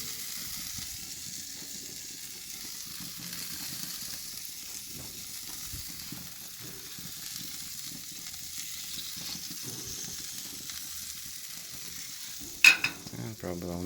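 Stufz burgers sizzling on a home grill, a steady, faint frying hiss that continues throughout with a brief louder clatter near the end.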